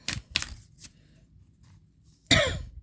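Tarot cards being shuffled by hand during a reading, a few short papery riffling bursts near the start and a louder, longer rustling shuffle toward the end, with quiet gaps between.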